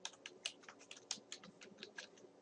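Quiet typing on a computer keyboard, a quick irregular run of light key clicks close by, with no talking.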